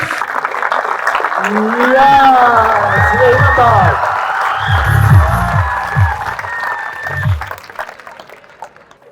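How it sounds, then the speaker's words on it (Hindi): A crowd at a school felicitation ceremony for exam achievers breaks into loud applause and cheering, with children shouting and excited voices rising over the clapping before it fades toward the end. "जोरदार तालियां इस बच्चे के लिए"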